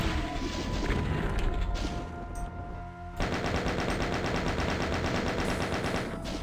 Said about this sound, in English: I see non-stop rockets